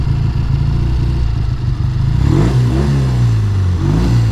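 A 1969 Triumph T120R motorcycle and other bikes at a show rev their exhausts close by, a steady engine drone rising into repeated throttle blips and falling again.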